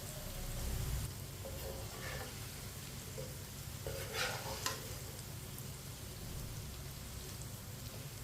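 Bhindi (okra) fries in a pan, a soft steady sizzle under repeated spatula stirring and scraping, with a couple of louder clatters midway, fairly quiet overall.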